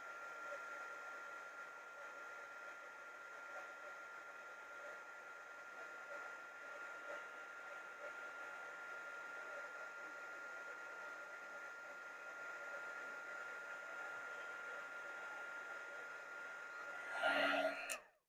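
A heat gun blows steadily to heat emboss a paper sentiment banner, giving a constant whirring, hissing drone for about seventeen seconds before it shuts off with a brief clatter at the end.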